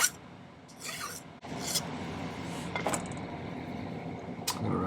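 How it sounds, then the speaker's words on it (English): A hand file rasping silver flush with the bottom of a bezel while making a cuff bracelet: a few short, scratchy strokes of varying length over a steady low hum, close by. "So let's just file this flush with the bottom of the bezel."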